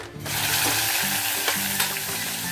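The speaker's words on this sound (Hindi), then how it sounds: "अभी हम ऑनियन जो पेस्ट करके रखे थे ये हम डाल देते हैं।" Onion paste added to hot oil in a pan and stirred for a raw banana kofta curry, a loud continuous sizzle with scraping stir strokes, close up.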